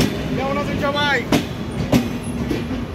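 Rupashi Bangla (Jahanabad) Express passenger train running on its inaugural trip, a steady rumble of rolling cars with sharp rail clanks, while voices talk and call out nearby.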